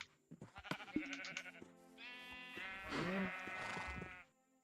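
Minecraft sheep bleating in a farm area, a couple of nasal baa calls up close, with small clicks and game noises around them.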